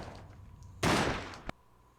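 One heavy gun blast from a new mag fires in the PlayStation 2 game The Sopranos: Road to Respect, a loud burst that rings briefly before a second, sharper crack follows.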